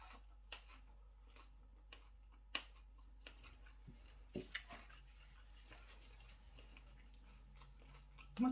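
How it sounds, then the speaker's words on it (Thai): Someone chews Vietnamese fresh spring rolls, with soft, scattered crunching and biting sounds close to the mic, irregular and quiet over a low background hum. "กินปอเปียกปอเปียกเวียดนามเนาะเพื่อน"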